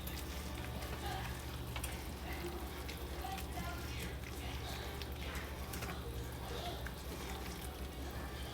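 Shrimp frying in a preheated pan for garlic butter shrimp: a steady, dense sizzle runs throughout at an even level, with faint clinks of utensils.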